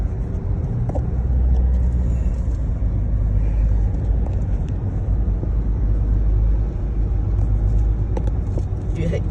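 Car driving out of an undersea tunnel on a road trip in Guangdong, a steady low engine and road rumble heard from inside the cabin, continuous and moderately loud throughout.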